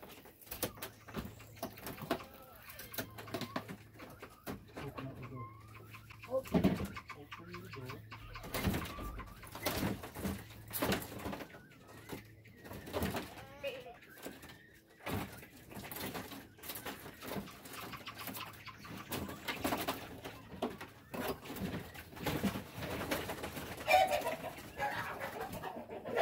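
Quail in a crate on a homestead give repeated soft calls and clucks, faint and scattered, against rustling and handling noise.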